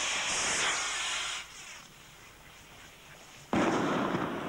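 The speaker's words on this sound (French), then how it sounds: "La première fusée indiquait le début de l'expérience." A black powder rocket launched from a boat at night gives a loud hissing rush with crackle, which cuts off into quiet before a second sharp burst of hiss returns near the end.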